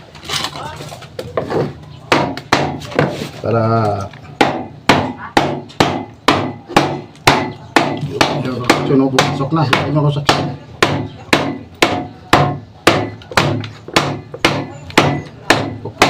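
A 4x3 pipe reducer is hammered into place on a construction job with a fast, steady run of sharp metallic strikes, nearly twenty in a row, briefly interrupted by someone speaking.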